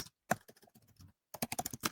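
Rapid keystrokes on a computer keyboard come in two quick bursts separated by a short pause, close and quiet, with no talking.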